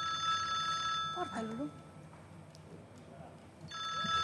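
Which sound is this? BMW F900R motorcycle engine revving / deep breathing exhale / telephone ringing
telephone ringing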